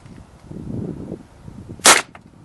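A single gunshot at an outdoor machine gun experience shooting range in Mohave, Arizona: one sharp, loud crack near the middle, with quiet background rumble before and a short decay after.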